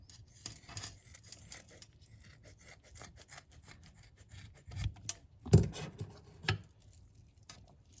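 A knife cuts the flabby part off raw turkey wings, making close, soft scraping and rubbing sounds with a few heavier thuds against the board.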